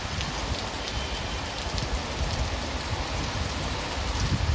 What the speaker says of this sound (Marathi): जायला निघत होतो आता आणि लगेच पाऊस लागला